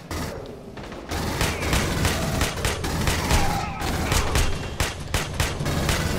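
Dense, rapid gunfire from Aliens: Colonial Marines on PC, a loud and continuous automatic fusillade after a brief lull at the start.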